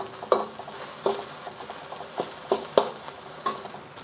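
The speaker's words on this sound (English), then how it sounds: "I'm gonna fry this up a little bit in the oil" Thai curry paste frying in oil in a pan while being stirred, with a soft sizzle under repeated scraping taps of a utensil at an uneven rhythm, close by.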